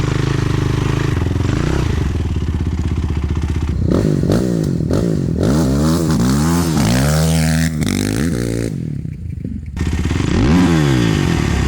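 A Yamaha YFZ450 ATV with a dirt bike cam mod runs loud and close, its engine revved repeatedly in sweeping bursts with brief dips between throttle blips.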